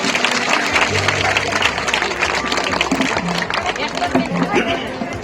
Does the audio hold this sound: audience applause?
yes